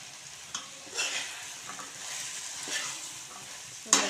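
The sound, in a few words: drumsticks (moringa pods) added to pan, stirred and frying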